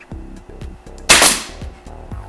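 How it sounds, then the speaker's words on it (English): A staple gun fires one sharp, loud snap into the back panel of a subwoofer box, with a bright decaying ring. Fainter low knocks repeat steadily before and after it. "go ahead and attach it with our staple gun"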